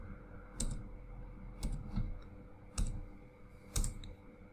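Four separate clicks of keys on a computer keyboard, each followed by a short pause, close and moderately quiet over a faint steady hum.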